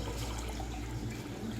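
Strained plum water pours steadily into a pan, a continuous close trickle and splash lasting under two seconds with no talking, made while preparing aloo bukhara sharbat.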